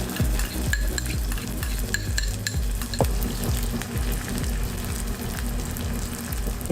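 Garlic and onion sauté in a Lazada multicooker, a continuous sizzle with rapid rhythmic scraping and tapping of a utensil against the pot, loud and close.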